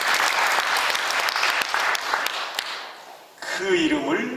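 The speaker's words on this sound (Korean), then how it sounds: "우리 여러분 방송실 한번 박수 한번 해드립시다" Church congregation applauding the broadcast team during a sermon, a dense burst of clapping for about three seconds that dies away as a voice resumes speaking.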